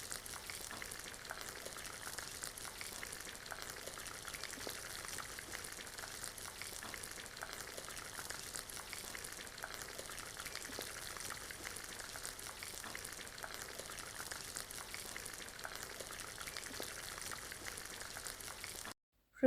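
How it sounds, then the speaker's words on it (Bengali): Brinjal fritters (beguni) frying in oil, a soft, steady bubbling sizzle with fine crackles that continues evenly throughout, faint and with no talking. "এবার বেগুনিগুলোকে গোল্ডেন ব্রাউন করে ভেজে নিতে হবে।"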